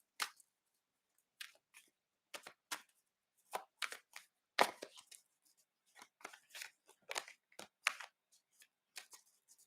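A tarot deck is shuffled by hand, producing close, quiet, crisp card riffles and snaps in irregular bursts separated by short silences.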